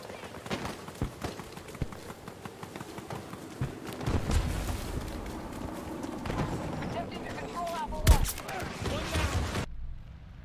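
Video game combat on Xbox Series X: a series of sharp gunshots, then a louder booming grenade blast near the end, all under steady background noise, with a player talking over the action.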